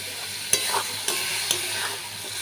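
Fish curry (macher jhal) hissing loudly in a hot pan as water hits the oil, with a few sharp scraping stirs cutting through the continuous sizzle.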